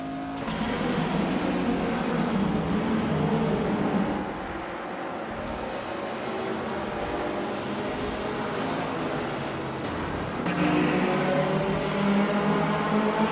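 Racing cars in a video game race, engines droning steadily and loud throughout with rising revs and a brief dip before a louder surge near the end, no talk.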